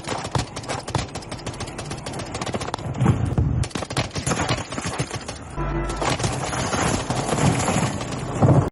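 Gunfire in the Call of Duty Warzone video game plays as loud, continuous rapid-fire shots that come in dense, sustained bursts without talk over them.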